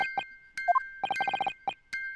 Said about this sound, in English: It's the defense belief that the sound emanating from this music box is